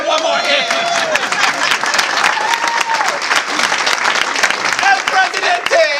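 A game show audience at a Rotary event gives contestants a loud, continuous round of applause, dense clapping close and steady for the whole stretch, with scattered shouts and voices mixed in.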